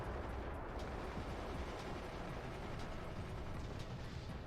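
Bombs dropped from a bomber blast in the Forts game, a dense, loud, continuous roar of overlapping explosions with scattered sharper cracks and no talk.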